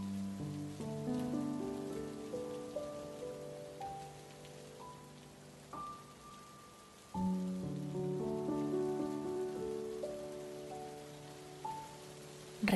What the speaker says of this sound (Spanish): con la agradable lluvia de fondo.